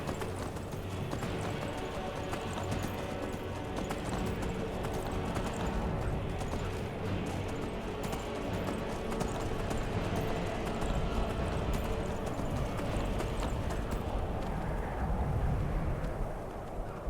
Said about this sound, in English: Got another horse over here that may or may not be one of the wild horses I'm supposed to catch